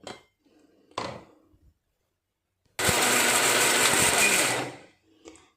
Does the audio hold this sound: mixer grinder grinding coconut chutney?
yes